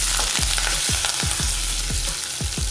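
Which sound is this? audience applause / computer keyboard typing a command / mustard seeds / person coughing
mustard seeds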